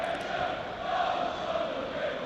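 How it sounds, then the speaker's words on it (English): Football stadium crowd during a Hull City versus Sunderland match, a steady broad roar of many voices at moderate level without distinct cheers. "Seems a decent crowd as well."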